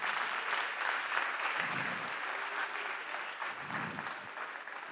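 Applause from a concert audience at the Institut Français du Congo, a full steady round of clapping from many people lasting several seconds, with faint voices underneath.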